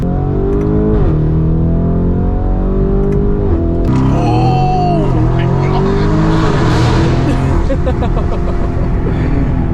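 Twin-turbo Viper downshifting and accelerating on a turnpike, engine note rising and falling in loud revving sweeps, with someone talking over it.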